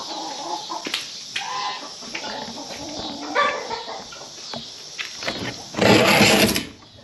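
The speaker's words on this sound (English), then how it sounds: "this one right here is the white leghorn rooster" A white leghorn rooster among a farm flock, clucking and calling in bursts close by, with other birds around and a louder stretch of squawking near the end.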